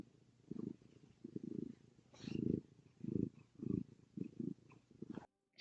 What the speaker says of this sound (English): You might be able to hear her purring too.